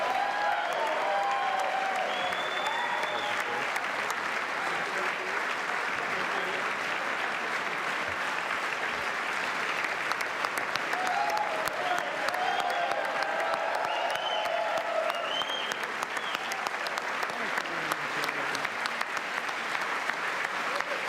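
Sustained applause from a large crowd at a congressional address fills the room, steady and dense, with a few louder claps and murmurs standing out.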